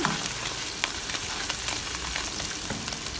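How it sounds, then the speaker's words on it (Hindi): Mushrooms sauté in a pan for a keto mushroom sauce, a steady close sizzle with scattered sharper crackles and spatula clicks throughout, no voices. "ये हमारे मशरूम्स अच्छे से सौते हो गए।"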